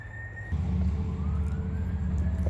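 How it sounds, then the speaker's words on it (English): An ambulance siren passes on a nearby road, its faint rising and falling wail riding over a loud, steady low rumble of passing traffic. "Got an ambulance coming."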